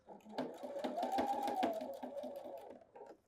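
Sewing machine stitching a seam at 2.5 stitch length with a 5/8 seam allowance, a close, steady run of rapid mechanical ticks with a humming motor tone, lasting about three seconds.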